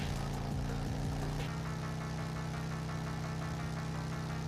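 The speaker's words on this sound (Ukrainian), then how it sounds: "Ну, оце двигун шепче просто." A car engine in the video game Drive Beyond Horizons gives a loud, continuous low hum and drone that holds steady throughout, with no voices.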